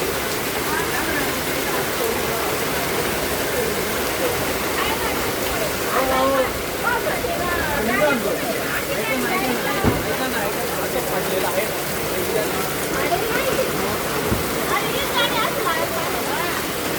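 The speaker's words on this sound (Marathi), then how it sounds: "खूप जोरात पाऊस आले बघा" Very heavy cloudburst rain pours down in a dense, unbroken roar like rushing water, loud and constant throughout, with voices faintly talking beneath it.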